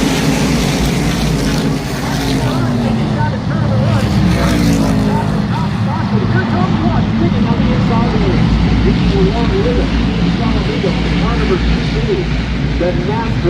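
Race cars roar together at a restart on lap 62 of an oval race, a loud sustained engine drone that stays dense and constant throughout with no gaps.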